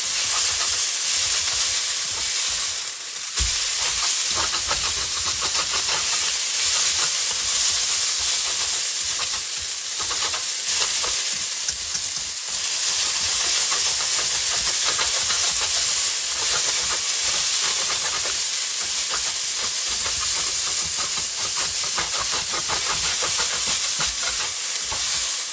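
Soy sauce noodles with bean sprouts and spring onions fry in a hot wok, giving a loud, continuous sizzling hiss with faint scraping and clatter underneath, close up and without talking.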